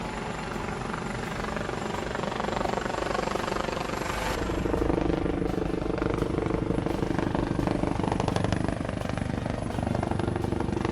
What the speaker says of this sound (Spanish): Mientras el helicóptero vigilaba desde los cielos con su ametralladora emplazada